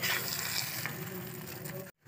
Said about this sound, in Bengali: এবার পরোটাটা আস্তে আস্তে করে ভাজবো।